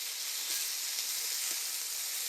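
Steak Diane sizzles in a pan just after being flipped, a faint, steady hiss of frying meat with light crackles and no talking.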